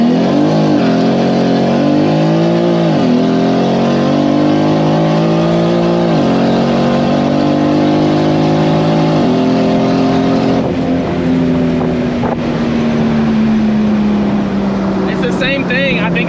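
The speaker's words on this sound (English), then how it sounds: "I'm just gonna hit the gas and go." A 2JZ-swapped BMW E30 with a DCT gearbox launches hard, its engine note climbing loudly through several quick gear changes before settling into a steady high drone. A voice talks over it.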